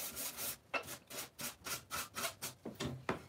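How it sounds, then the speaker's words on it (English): Decoupaged furniture is hand-sanded with a quick rhythmic series of about nine back-and-forth rasping strokes, close and fairly quiet, with no voices. "I'm sanding before I fix them just so you can see the finished project."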